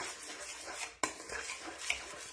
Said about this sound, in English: I'm gonna mix this around